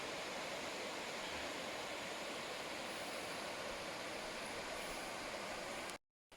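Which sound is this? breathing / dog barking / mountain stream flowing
mountain stream flowing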